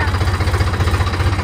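A tractor engine runs loud and close with a steady, throbbing low chug, pulsing evenly with no break.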